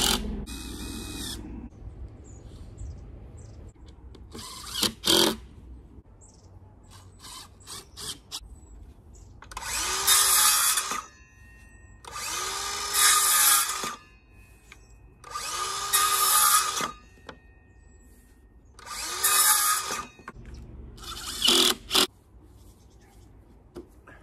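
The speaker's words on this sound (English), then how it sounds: "So we're just going to screw all the bits together." Power drill driving screws into a wooden nesting box for a mobile chicken coop, several short whirring bursts separated by pauses and light handling clatter, close and fairly loud.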